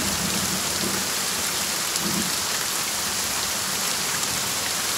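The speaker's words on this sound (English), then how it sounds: "When it starts to rain heavily" Heavy rain pours down steadily in a summer downpour at a bee-eater colony, a dense continuous hiss with no gaps and no voices.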